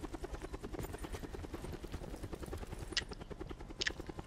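A video game helicopter thrums with a steady, rapid rotor chop throughout, moderately quiet, with a couple of brief sharp clicks near the end and no talking.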